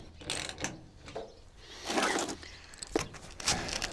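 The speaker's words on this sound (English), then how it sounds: "you can tighten down your rear clamp" The rear clamp of a TruXport roll-up truck bed cover is tightened down, giving a close series of irregular ratcheting clicks and metallic scrapes with bursts of handling noise.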